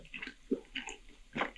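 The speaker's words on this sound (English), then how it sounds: "Canadian ASM artist Honeybee, heard here enjoying a selection of brightly colored candies" Brightly colored candies are bitten and chewed close to the microphone in an ASMR setting, giving several faint, wet, crunchy bites and squishes in an irregular rhythm over near silence.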